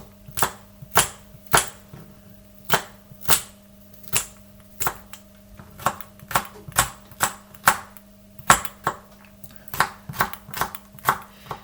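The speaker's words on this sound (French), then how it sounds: "Je vais le découper vraiment en petits morceaux" A knife chops garlic cloves into small pieces on a board, making sharp, crisp taps in irregular bursts, close and fairly quiet, with no talking.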